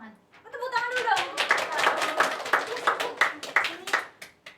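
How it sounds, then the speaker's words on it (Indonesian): Classroom of students clapping hands together in a quick, uneven burst, mixed with children's voices and chatter. "tepuk tangan dulu dong"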